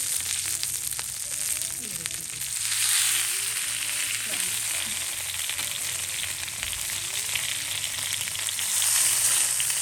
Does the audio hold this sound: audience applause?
no